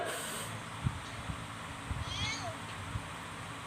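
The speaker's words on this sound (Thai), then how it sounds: "นี่ทุกคน มีแมวด้วย เขาเล่นกับแมว" A cat meows a few times in short, soft calls while people talk casually nearby, set against a steady indoor background hum.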